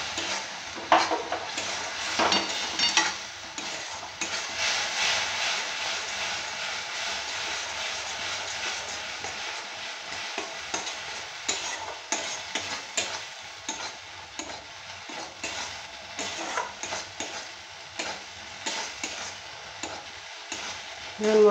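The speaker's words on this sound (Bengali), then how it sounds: "এটাকে আর একটু কষিয়ে নেব।" Spice paste with salt and a little water is stir-fried in a pan for papaya curry, giving a continuous close sizzle broken by repeated scraping strokes of a spatula against the pan.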